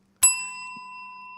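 A single clear bell ding rings out once with a sharp strike and a long, steady ringing sustain, over a faint low background hum.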